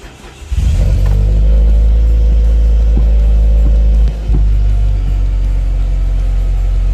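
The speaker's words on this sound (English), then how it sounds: "And now you're going to want to start the car." A supercharged 4G Mitsubishi Eclipse, just fitted with a Deatschwerks fuel pump, cranks briefly and fires up, then settles into a loud, deep, steady idle rumble close by, with a short dip partway through.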